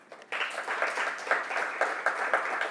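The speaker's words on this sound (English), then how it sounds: "clap your hands." A lecture audience claps hands in response to a show-of-hands question, a burst of moderate, scattered clapping starting abruptly and continuing steadily, with no talk over it.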